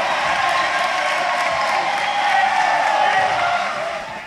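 A crowd cheering and applauding, a steady, loud wash of clapping and roar that holds evenly and then begins to fade at the end.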